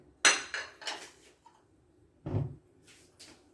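A few metallic clanks and knocks as a wok is picked up and set down, separated by short pauses.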